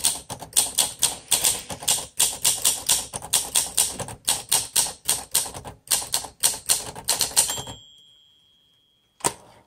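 Rapid bursts of keystrokes on a 1951 Olympia SM2 manual typewriter typed in all caps, close and crisp in quick uneven rhythm for about seven seconds, then a pause and a single final clack.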